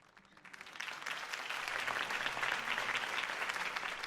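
Applause from a crowd swells up quickly and holds steady, a dense patter of clapping hands heard at moderate distance.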